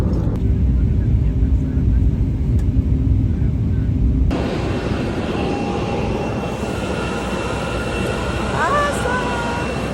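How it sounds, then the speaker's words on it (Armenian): Inside an airport terminal, a constant low rumble of aircraft and ventilation fills the space, loud and steady, with faint distant tones and murmuring in the background. "Մենք դեռ օդանավակայանի ներսում ենք"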